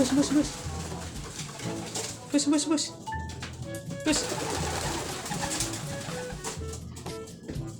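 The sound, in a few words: pigeons cooing and flapping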